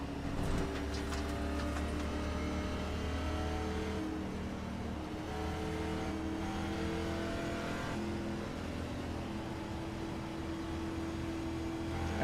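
Race car engines drone continuously in a NASCAR racing video game at Michigan, a dense sustained roar with several cars at high revs and shifting pitches.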